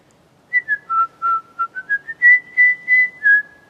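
A lone person whistles a slow, clear tune of about a dozen separate notes, close and loud against near silence during a nighttime paranormal investigation in a grove.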